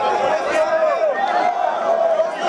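A dense crowd murmurs at a gathering of diggers awaiting officials, a steady close babble of many overlapping voices with no single speaker standing out.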